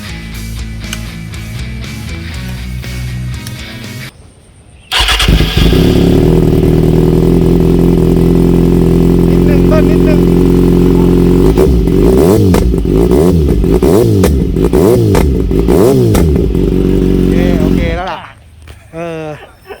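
A motorcycle engine idles, then revs hard for over ten seconds in repeated throttle blips, loud and close, before dropping back to a low idle.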